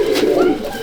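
Phulsira racing pigeons coo in a loft, a loud close throaty burble over a short moment.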